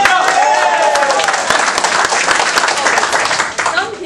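A group in a room applauds on cue, a dense, steady burst of clapping with some cheering voices mixed in, sustained loudly throughout.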